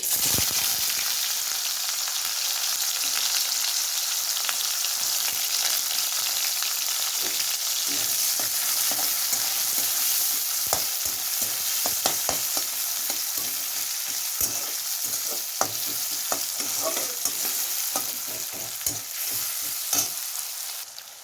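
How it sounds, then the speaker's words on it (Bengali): Chopped onion frying in hot oil as the base for a dried shrimp curry, a steady loud sizzle throughout with scattered crackles and spatter pops, no voices. "তেল গরম হয়ে গেছে আমি তো দেবো হচ্ছে পেঁয়াজ কুচি"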